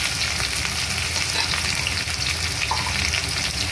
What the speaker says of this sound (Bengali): আলুগুলো অল্প ভাজা হয়ে গেছে, এবার ডাঁটাগুলো আমি দিয়ে দেবো।